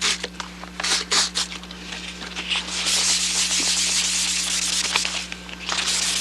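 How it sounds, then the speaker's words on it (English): Sandpaper rubs in light, uneven back-and-forth strokes across a surface, close and fairly loud, with a faint steady hum underneath and no voices. "You can't press the sandpaper very hard"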